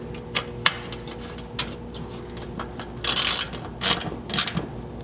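A 5/32 wrench tightens fasteners on the frame of a modular drawer system for a 100 Series Land Cruiser, giving sharp ratcheting clicks and several louder bursts of rapid ratcheting, close and clear.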